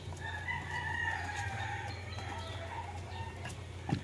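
Roosters crow and hens cluck in a backyard poultry yard, several birds calling at once with drawn-out crows rising over a steady low murmur of the flock, moderately near and continuous.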